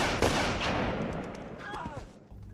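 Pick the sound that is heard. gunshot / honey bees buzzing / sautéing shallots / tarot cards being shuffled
gunshot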